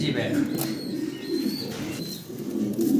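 Three single caged pigeons coo in low continuous murmurs close by, with thin higher chirps from other birds drifting over the top.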